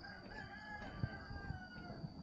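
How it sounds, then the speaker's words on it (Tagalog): A rooster crows with a drawn-out, wavering call, fairly faint and distant, over a low background hum with a few soft thumps. "Naririnig ko na yung mga tilawak ng manok."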